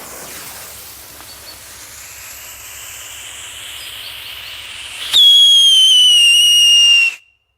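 A faint hiss and crackle build for several seconds, then a loud, piercing whistle from a Piszczący Pirobajer Luftheuler Xplode whistling firework sounds close by for about two seconds before cutting off abruptly.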